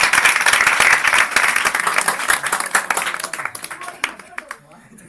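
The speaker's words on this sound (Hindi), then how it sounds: "तालियां बजाएं सभी लोग" Audience applause at a celebration for board exam toppers, loud dense clapping that thins into scattered claps and fades out toward the end, with a voice briefly audible under it.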